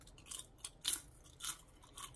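Someone bites and chews crisp fried dried chili pepper chips made from mild peppers, giving several sharp, close crunches spaced through a quiet moment.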